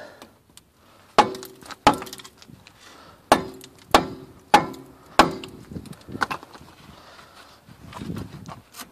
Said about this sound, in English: you can remove the caliper. Sometimes you need to whack it.